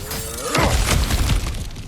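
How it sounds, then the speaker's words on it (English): Cracked ground breaking apart and collapsing when smashed in God of War Ragnarök, a loud crumbling shatter with debris that swells around the midpoint and rumbles on to the end. "back to smashing through things for fun and profit"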